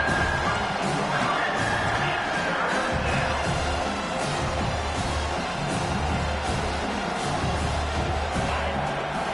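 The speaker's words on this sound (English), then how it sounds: "Decibels rising as the crowd gets behind this defense on third down." Stadium crowd noise from the College Football 25 video game, a broad sustained roar that swells and stays loud throughout, with scattered cheers and shouts rising above it.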